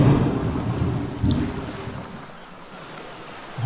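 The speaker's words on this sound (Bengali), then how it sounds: "গ্রামে নেমে আসলো এক ভয়ানক ঝড়" A deep rumble of thunder rolls with wind and rain, loud at first with a second surge, then settling into a quieter stormy hiss.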